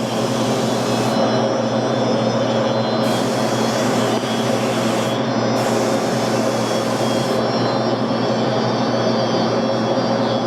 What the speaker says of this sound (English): So Tim is shooting the primer now